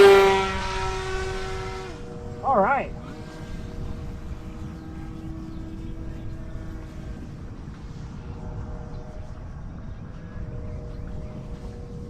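An RC airplane drones past, its motor loud at first and then settling into a steady, fainter whine as it flies on, with a brief spoken remark early on.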